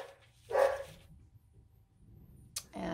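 A small dog barks twice indoors in a quiet craft room, one sharp bark early and another near the end, with soft room noise between them.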